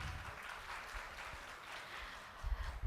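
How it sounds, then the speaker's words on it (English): An audience at a national conference applauds the session chairperson, a steady wash of clapping that holds evenly throughout, with a few heavier thumps near the end. "Please give a round of applause for ma'am."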